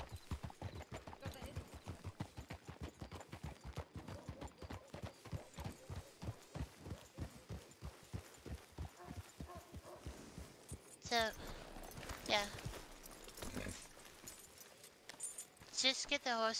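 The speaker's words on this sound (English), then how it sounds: "Just get the horse to Dominic." Steady, rhythmic hoof clip-clops of a horse walking in a Wild West role-play video game, fairly close, with voices talking over them toward the end.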